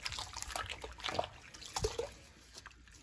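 Dirty, oily water drips and trickles from a cleaning cloth used on a stove top, with soft irregular splashes and patters at close range.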